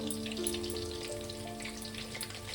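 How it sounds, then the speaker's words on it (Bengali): Chicken pakoras, chow-style and spicy, frying in hot oil with a steady crackling sizzle that runs unbroken at moderate loudness, with no voices over it. "একটু ভালো করে ভেজে নেবো পকোড়াগুলো।"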